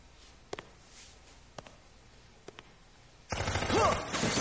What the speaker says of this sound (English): Oh crap, someone's shooting at me!